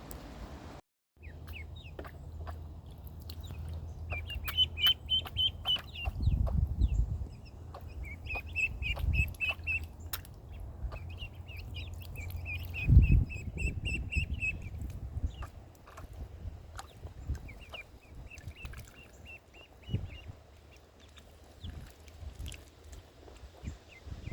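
Newly hatched chicks peep in a brooder, their high chirps coming in short bursts at moderate distance over low rumbling and handling noises.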